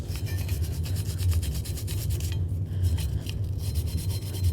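Steady rasping scrub of a brush working the pad abutment areas of a front brake caliper bracket from a 2009-13 Mazda 3, continuous and close for the whole stretch, with a brief quieter dip midway.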